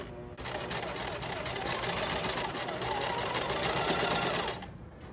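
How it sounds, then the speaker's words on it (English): A sewing machine stitches trim onto a swimsuit sleeve, a fast, even rapid-fire clatter of the needle running steadily for several seconds before stopping, close up and with no talking. "So now I'm just going to let it sew a little bit."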